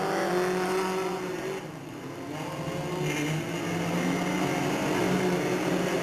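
Race cars roar down the front straightaway at Delta Speedway in 1997, a dense, steady engine drone that holds loud throughout with a slight dip midway, no voices on top.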